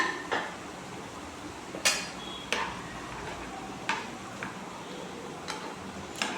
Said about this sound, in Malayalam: എല്ലാം കൂടെ ചതച്ചത് ഇട്ട് കൊടുക്കാവേ നന്നായിട്ടൊന്ന് ഇളക്കി കൊടുക്കണേ